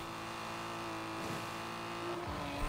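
A 1969 Toyota 2000GT racing in Forza Horizon 4, with a steady, loud engine drone holding a high pitch, shifting briefly twice as the revs change, alongside a faint tire hiss.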